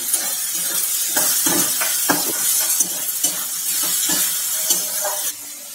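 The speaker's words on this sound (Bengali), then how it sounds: "রসুন বাটাটা দিয়ে একটু খুব ভালো করে মেরে কেটে ভেজে নেবো যাতে এই পাতা গন্ধটা না থাকে।" Garlic paste fries with melted tomato in a pan for a pea ghugni, sizzling loudly and continuously up close. Repeated spatula scrapes and stirring knocks land at an uneven rhythm, with no voices.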